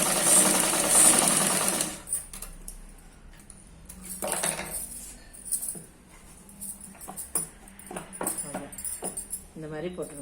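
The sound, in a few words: sewing machine stitching chudithar top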